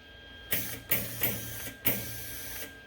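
A Lincoln Electric 100SG aluminum welding spool gun feeds wire after the trigger is pulled, making four or five short, sharp mechanical whirring bursts in an even rhythm, close and fairly loud with no talking.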